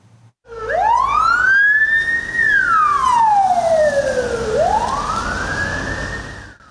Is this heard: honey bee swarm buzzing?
no